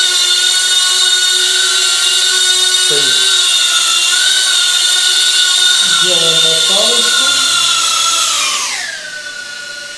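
Brushless motors of a Blade Inductrix 200 FPV racing quadcopter drone hold a loud, steady high-pitched whine for several seconds, then spin down near the end. Someone talks briefly over the motor noise.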